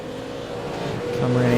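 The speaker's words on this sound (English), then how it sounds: "Craig, we're on the left hand side here into the braking zone" A V8 race car drives along a track toward a braking zone, its engine a steady droning hum that grows louder and brighter near the end, with a voice talking over it.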